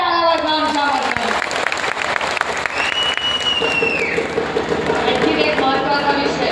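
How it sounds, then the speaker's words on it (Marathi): Loud sustained applause from an audience for a speaker, many hands clapping steadily while a voice carries over it. "जोरदार टाळ्या वाजवा आमच्या माऊलीला."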